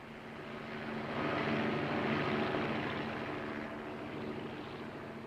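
A helicopter arrives in a small New England town, its steady rotor and engine drone swelling to a peak and then easing off slightly, with no talk over it.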